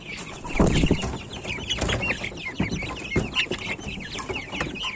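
Young Brahma pullets clucking and chattering at close range, a busy overlapping series of short clucks and squawks with occasional louder calls.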